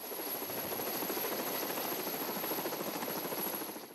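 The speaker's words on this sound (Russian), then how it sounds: "Как только вертолеты взлетели" Military helicopters lift off near the cruiser Pyotr Velikiy during a naval exercise, their rotors making a dense, loud, continuous thrumming roar with a rapid beat, steady throughout and free of talk.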